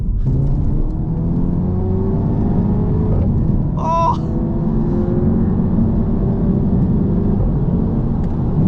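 An MK3 Audi TT with a 230 horsepower engine accelerates around a roundabout, its steady engine drone and road rumble loud and continuous throughout, holding revs high without shifting, with a brief chirping tone partway through.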